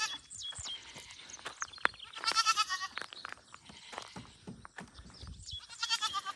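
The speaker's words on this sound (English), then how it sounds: "The goats are talking, the cows are talking, the birds are singing." Goats bleating on a farm on a quiet morning, several repeated wavering bleats at moderate distance in bursts, with birds chirping and light rustling around them.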